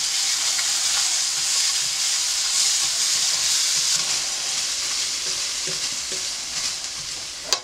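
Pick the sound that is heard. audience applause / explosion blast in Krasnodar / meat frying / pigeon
meat frying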